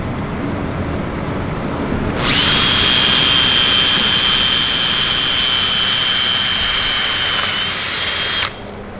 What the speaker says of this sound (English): then Dave will drill it out, and then we'll put self-tapping screws in